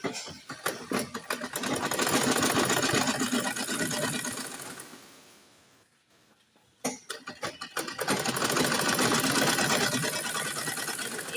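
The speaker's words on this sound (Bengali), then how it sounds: "এখন আমি এই পুরা হাতার রাউন্ডটা আরেকবার সেলাই করে দিন" A sewing machine stitches around the sleeve of a kameez in two long bursts, a rapid close-up clatter that slows to a stop midway, then restarts with a few hesitant stitches before running fast again.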